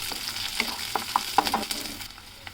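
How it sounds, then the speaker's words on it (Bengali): Capsicum and broccoli stir-fry in a pan with very little oil, a low hiss punctuated by a few quick knocks and scrapes of a stirring spatula. "ক্যাপসিকামটা দিয়ে আরও এক মিনিট একটু নেড়েচেড়ে ভেজে নেবেন"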